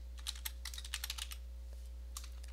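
Keys clack on a computer keyboard while Python code is typed, a quick irregular patter of soft close taps in two bursts over a steady low electrical hum, no voice.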